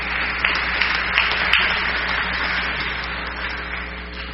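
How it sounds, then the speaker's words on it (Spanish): Moderate applause from the audience at a forum on Peruvian film law, many hands clapping in an even patter with a few sharper claps standing out, steady throughout. "para quien pido un aplauso"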